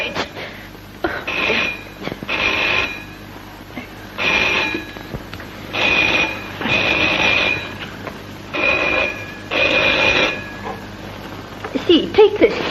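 An old bell telephone rings in repeated bursts of jangling bells separated by short pauses, loud and close, with a voice briefly heard near the end.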